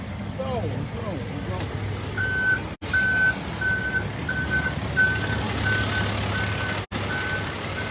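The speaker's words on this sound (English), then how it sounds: "This looks like a garbage truck" A garbage truck reverses on a busy street by the walls of Jerusalem, its backup alarm giving a steady run of evenly spaced beeps over traffic rumble and nearby voices.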